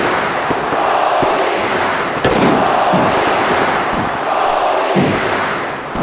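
Crowd at an indoor wrestling event roaring and cheering steadily throughout, a dense sustained wall of voices with a few sharp pops and claps rising above it.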